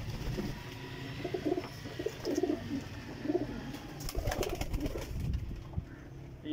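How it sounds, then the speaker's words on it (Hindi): Teddy pigeons, including golden teddy crosses, coo in low repeated rolling phrases, close by, with soft rustling and faint background noise. "ये भी दोस्तों ये भी टैडी कबूतर है,"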